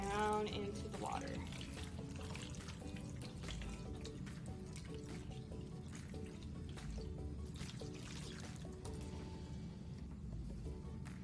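Water is poured over a model as a simulated rainstorm, trickling steadily, splashing and dribbling throughout, faint and close, with a voice speaking over it.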